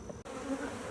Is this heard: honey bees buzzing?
yes